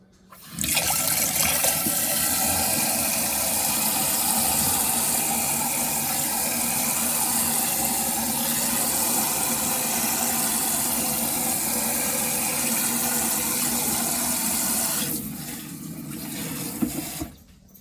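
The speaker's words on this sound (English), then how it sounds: "you're going to wash it in cold water until the water is clear" Cold water runs steadily from a tap over rice being washed until it runs clear, a loud continuous splashing stream lasting most of the clip before cutting off, with no talking.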